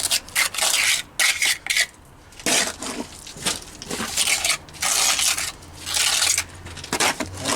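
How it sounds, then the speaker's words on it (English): Rapid set cement is being plastered onto a stone retaining wall, heard as rough, gritty trowel scrapes and slaps in quick irregular bursts with brief pauses between, close and fairly loud. "Let me get some of that rapid set. Plaster it on there."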